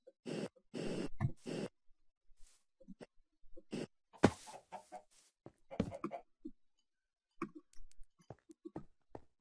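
Minecraft chickens give short bursts of clucking, several clustered calls followed by sparse quieter clicks and pauses, fairly close and with no talking.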